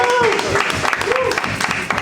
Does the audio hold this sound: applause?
yes